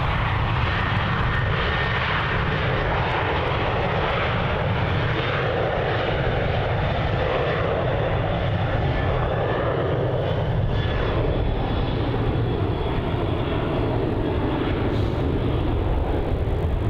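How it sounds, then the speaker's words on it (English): An airliner at Melbourne Airport takes off with a loud, sustained jet-engine roar that holds steady and dominant for the whole stretch, with no talk over it. "So I think this has already been cleared for takeoff."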